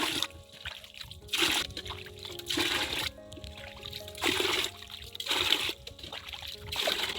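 Water splashes and trickles in repeated bursts as a container is dipped to scoop water for watering plants during hot weather, several close scoops and pours in an irregular rhythm with no talk.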